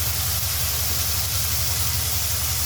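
Jackfruit seeds dropped into a pan of spice paste that has just been fried down, giving a steady, close hiss of sizzling with no pause for the whole stretch and no talking.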